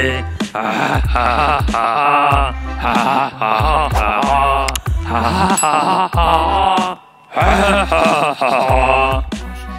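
A ghost in a Hindi horror story lets out long, drawn-out wailing groans and moans, loud and close, repeated in several sustained waves with brief breaks between them.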